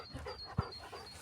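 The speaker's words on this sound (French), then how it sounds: "Salut le chien." A nearby dog pants in soft, quick breaths, with one louder huff partway through, faint and alone against quiet room noise.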